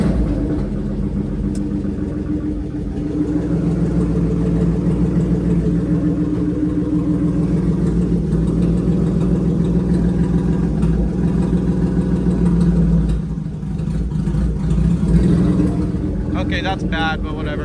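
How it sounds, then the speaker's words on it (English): A BMW 323ti Compact's engine runs at a steady, close, rumbling idle with a constant low drone that holds for the whole stretch, a brief dip near the end. "Now we're gonna start the car."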